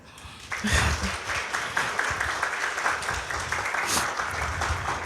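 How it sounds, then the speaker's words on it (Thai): Steady applause from a crowd fills the room, a dense wash of clapping that holds at a fairly even loudness throughout. "อยากให้ทุกคนปรบมือให้คุณแม่ทุกคนที่นี่ค่ะ"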